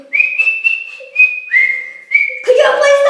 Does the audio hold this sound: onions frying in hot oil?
no